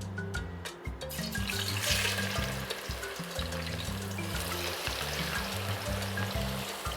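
Potato slices fry in hot oil with a steady, fairly soft sizzle and crackle, while low background music plays underneath.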